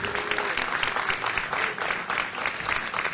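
Applause from an audience at a DC Council legislative meeting fills the room, continuous and moderately loud, with a dense patter of many hands for the whole stretch.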